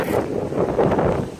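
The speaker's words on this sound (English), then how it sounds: "Yo, take a look at this huge gust of wind!" A loud gust of wind during a thunderstorm buffets the microphone with a continuous broadband roar. It swells and surges unevenly over the whole moment, and no voice is heard.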